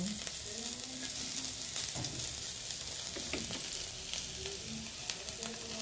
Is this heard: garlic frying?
yes